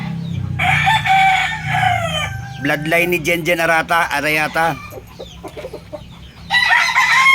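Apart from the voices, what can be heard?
rooster crowing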